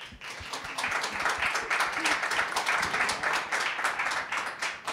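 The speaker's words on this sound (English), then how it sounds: "Apparently the sound of 2 hands clapping." Applause from a conference audience at a legal-technology talk, a dense steady wash of many hands clapping at moderate distance, sustained through the whole stretch without a break.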